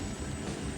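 A steady, loud engine roar with a whining tone, a continuous drone of an emergency medical helicopter close by and without any voices.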